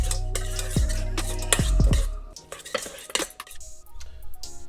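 Lobster salad seasoned with salt and black pepper being mixed with a utensil in a bowl, close clinks and scrapes in quick bursts, then softer stirring.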